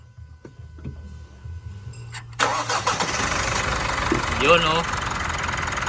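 A 2017 Mitsubishi Montero engine cranks and catches at about 2.4 seconds, then settles into a loud, steady idle close by. A person speaks briefly over the running engine.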